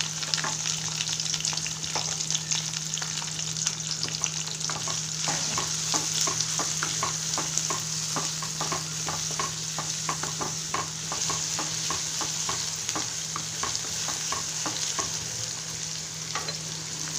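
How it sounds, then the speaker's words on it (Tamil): Chopped onions and curry leaves fry in a pan for a drumstick, tomato and brinjal gravy, giving a steady, close sizzle with scattered light stirring scrapes throughout and no talking. "வெங்காயம் ஒரு கப் நறுக்கி வச்சது பொடி பொடியாக நறுக்கின வெங்காயம் போட்டுக்கிட்டு அதையும் நல்லா வதக்கணும்"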